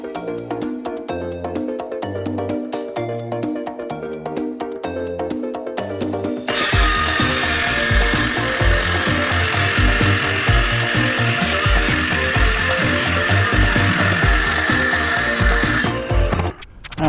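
Power saw cutting through a solid salvaged plywood sheet, a loud continuous grinding rasp that starts after several seconds of rhythmic knocking and runs steadily to the end, close and alone.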